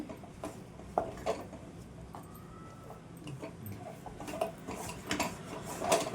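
Grated pumpkin and flour being mixed by hand into a dough in a bowl for jaggery appalu, with faint soft clinks, scrapes and sticky squelches at irregular intervals, quiet and close.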